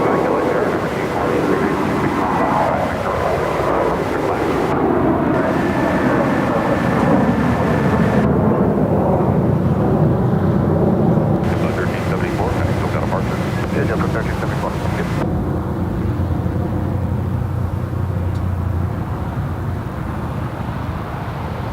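A JetBlue Airbus A321 takes off at Los Angeles International Airport, a loud, sustained jet roar that rises and holds throughout, mixed with wind buffeting and scanner chatter, with a voice speaking over it.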